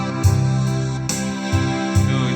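Choir vocal voice on a single arranger keyboard, sustained sung-vowel chords shifting in steps over a repeating low bass pattern, close and clear, with no talking.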